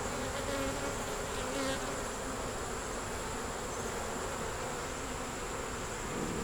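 Honeybees hum at an open, healthy hive that holds queen, eggs, brood and stores, their buzz a steady, dense drone with no pauses and no talking.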